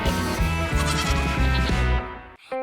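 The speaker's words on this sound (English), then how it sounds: "There were some very beautiful goats in the pen." Cartoon goats bleat in a pen on a farm in a Peppa Pig animation, a run of loud, tuneful, stylised bleats over a steady backing, ending in one brief, higher call.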